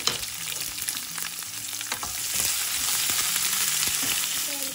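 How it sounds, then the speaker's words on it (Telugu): Onions go into hot oil tempered with chana dal, urad dal and a broken dried red chilli, giving a dense steady sizzle with a few soft stirring clicks and no speech. "తాలింపు వేగాక ఉల్లిపాయలు వేసుకోవాలి."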